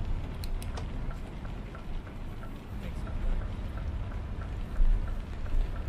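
Steady rain in Euro Truck Simulator 2, a constant hiss with scattered droplet ticks on the truck while driving toward Hannover, sustained and fairly close throughout with a low rumble beneath.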